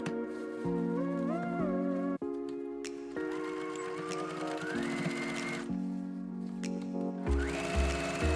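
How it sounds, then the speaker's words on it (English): A sewing machine stitches binding onto the front body of a robe with a flapper seam, running in several close, steady whirring bursts broken by short pauses. "Attach the binding to front bodies and sew by flapper seam."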